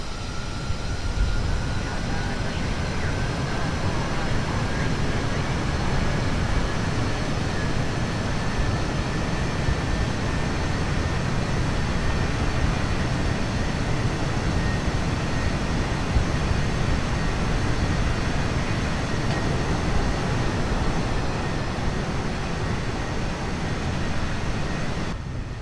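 An aircraft engine roars steadily during takeoff in the Kerbal Space Program video game, with a constant loud broadband rumble and a faint rising tone, continuing without pause throughout.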